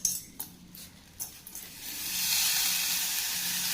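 Butter melting in a silver pan on a low flame for homemade curry-leaf ghee, crackling in a few sharp pops before settling into a steady, close, bright sizzle that builds and holds.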